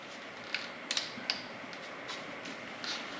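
A ratchet clicks softly while snugging accessory drive hardware on a 1964 Ford F100 engine, a few faint, scattered metallic ticks and short creaks in a quiet garage.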